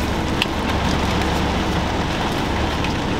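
Steady rain falls outside in a continuous, even wash of patter with occasional sharper drops, moderately loud and unbroken, with no voices.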